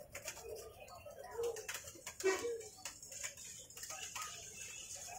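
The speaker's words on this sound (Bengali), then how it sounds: "এটা অনেক সুন্দর কবুতর।" Domestic pigeons, including magpie pigeons, coo softly in repeated low calls, fairly faint, with light ticking noises around them.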